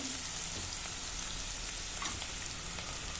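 Onions frying in a pan over a medium flame for mushroom curry, a steady close sizzle with crackling spatter that runs unbroken throughout, no voices.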